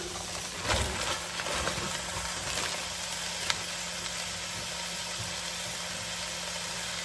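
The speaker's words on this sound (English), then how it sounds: "let's add our ham" Diced ham hitting a hot pot for classic red beans and rice, giving a steady close sizzle with a few brief clatters and stirring bumps near the start, continuing evenly without speech.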